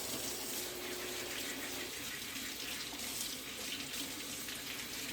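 Potatoes scrubbed clean under a running kitchen tap, a soft steady gush of water splashing into a sink, faint and continuous with no talking.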